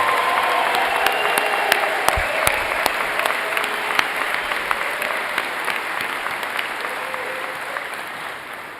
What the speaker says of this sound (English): Last round of applause for our graduates in this room today.